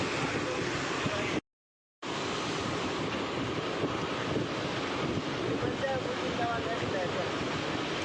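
Floodwater surging and swelling up over a mill amid heavy rain and flooding in Kadapa, a steady, dense rushing roar with wind buffeting the microphone, broken by one brief cut to silence.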